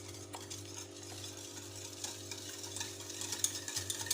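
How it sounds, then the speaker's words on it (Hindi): Milk and powdered sugar being mixed for a cake batter, a quiet continuous stirring and whisking sound at close range with a faint low hum behind it, no talking. "अच्छी तरह इसको मिक्स कर लें।"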